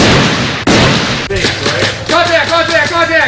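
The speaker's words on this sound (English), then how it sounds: "Here we got another gunshot." Gunshots ring out during an active shooter training exercise, several loud sharp blasts in quick succession with ringing echoes, heard with no talking.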